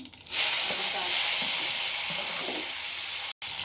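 Tomato dropped into hot oil already holding cumin, mustard seeds and curry leaves, setting off a loud, steady sizzle that flares up at once and keeps hissing close by, with one brief cut near the end.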